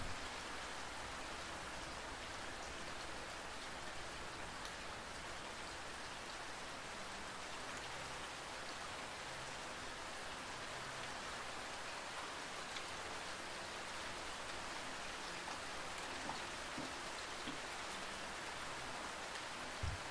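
Steady rain falls evenly and continuously in a dense, unbroken hiss of drops, with no voices or other sounds rising above it.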